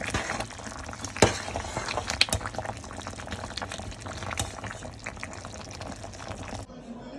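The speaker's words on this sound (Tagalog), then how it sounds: "Kumukulo na. Malapit nang maluto." Tomato sauce bubbling in a pot on the stove, a continuous soft simmering gurgle with occasional louder pops and clinks, close and fairly quiet.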